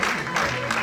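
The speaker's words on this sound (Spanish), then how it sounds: "Solo por eso le merece un aplauso" Audience at a secondary-school graduation ceremony applauding, a dense wash of clapping hands in a hall, brief and fairly loud, with a faint voice mixed in.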